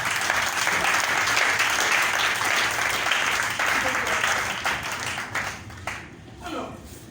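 A church congregation applauding during a French-language service, with loud, dense clapping filling the room that gradually thins toward the end, mixed with voices.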